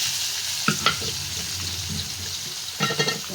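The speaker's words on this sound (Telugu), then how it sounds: "ఆనియన్స్ ఫ్రై అయినాయి కదా," Onions frying in tempering oil with dried red chillies, mustard seeds, cumin, garlic and asafoetida, a steady soft sizzle broken by a few sharp stirring clatters near the start and end.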